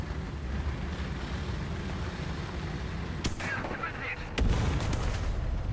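An RP-3 rocket launches from a Cromwell Mk.V tank in War Thunder, a sharp blast over steady engine rumble, followed by a second heavy firing burst a moment later.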